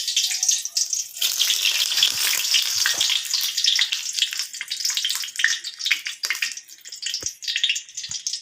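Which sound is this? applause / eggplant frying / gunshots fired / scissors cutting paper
eggplant frying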